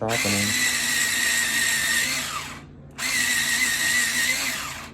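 An electric pencil sharpener grinds a black watercolor pencil in two steady buzzing runs with a brief pause between them, close and fairly loud.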